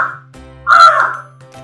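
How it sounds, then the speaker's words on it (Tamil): A crow caws near a home kitchen, giving a loud, close harsh call between fainter short calls, over a steady low hum, with no talking. "அதனால கரெக்டாக அந்த டைமுக்கு வந்து காக்கா சத்தம் போடுது"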